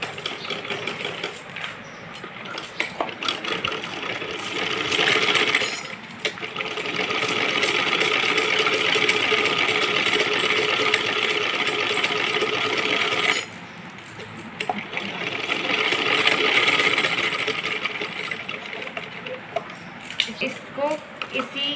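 Sewing machine stitching a straightened seam on a garment, close and loud, running in long continuous bursts of rapid whirring needle chatter broken by short pauses and a few small clicks.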